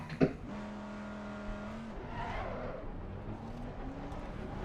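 A race car engine in the racing game Assetto Corsa Competizione revs and drones at moderate level, its pitch rising and falling through gear changes, with a brief tire squeal and a sharp click near the start.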